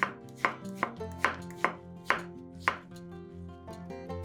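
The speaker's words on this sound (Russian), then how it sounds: "Затем каждую половинку кабачка разрезаем еще раз вдоль пополам и нарезаем четвертинками." A knife chops through zucchini on a board, about ten sharp, evenly spaced cuts close up, with no voices.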